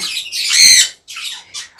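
Green parrotlet squawking at an exotic bird farm, a close, loud run of harsh shrill squawks, a short pause, then two more bursts.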